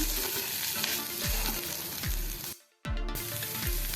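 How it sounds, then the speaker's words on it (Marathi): Green chillies, garlic cloves and ginger sauté in a hot pan with a loud steady sizzle, stirred in regular scraping strokes and broken by a brief silent pause. "दोन हिरव्या मिरच्या घालूया सात आठ लसूण पाकळ्या घालूया आणि आलं घालूया थोडं हे सुद्धा आता आपण थोडं परतून घेऊया"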